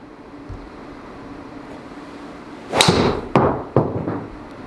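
A Mizuno ST200 golf driver strikes a ball with a sharp, loud crack, followed by a couple of further thumps and knocks against quiet outdoor background noise.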